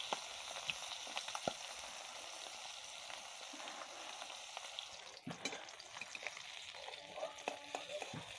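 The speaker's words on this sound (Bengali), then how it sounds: "দেখো মাছগুলো আমার ভাজা হয়ে গেছে" Fish frying in a pan with oil, a steady close sizzle and crackle throughout with a few sharper pops and utensil stirs, no talk.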